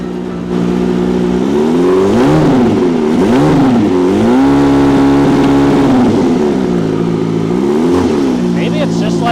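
Turbocharged Suzuki Hayabusa motorcycle on a Dynojet dyno, engine revved repeatedly in rising and falling sweeps before holding a high steady pitch, loud and close, with turbo whistles near the end.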